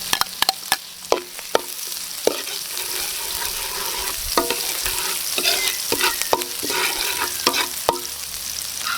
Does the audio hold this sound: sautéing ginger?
yes